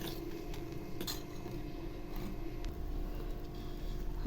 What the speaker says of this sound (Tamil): இப்படி நல்லா மிக்ஸ் பண்ணிடலாம்.